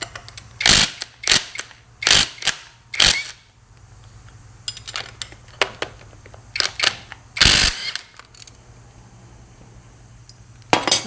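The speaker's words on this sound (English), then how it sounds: "We'll get the bolts off that sandwich the slides to the beam." A ratchet wrench loosening the bolts that sandwich bronze slides to the beam on a Wolfe Ridge 22 RS camper, sounding as sharp clicking bursts in short irregular runs with quiet pauses between, close and loud.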